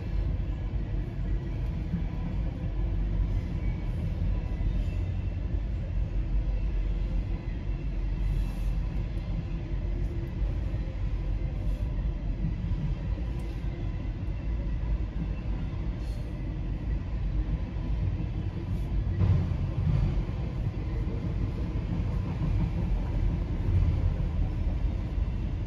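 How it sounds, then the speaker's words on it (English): A low, steady rumble of a train rolling past, constant and fairly distant, with no voices. "This train was going to be on the track that we were just standing on."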